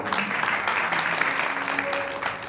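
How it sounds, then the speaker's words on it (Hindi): A crowd at an Indian patriotic gathering claps together, a dense, continuous wash of applause filling the whole moment, with some voices and a brief tone mixed underneath. "एक बार ताली तो बजाओ"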